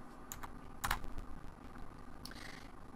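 Computer keyboard keys tapped in a few quick clustered presses, close and fairly faint over a quiet room hum, while settings are entered for an LSI 1068E controller with an SSD.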